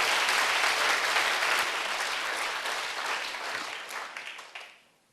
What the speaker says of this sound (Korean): 박수로 세게.